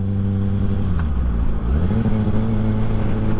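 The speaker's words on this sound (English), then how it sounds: "We're gonna roll off the throttle, pull the clutch in, downshift, and then let the clutch out and get back on the throttle." A motorcycle engine held steady, dipping briefly as the rider rolls off the throttle and downshifts, then climbing again as the throttle comes back on, with a continuous close, loud drone and no talk.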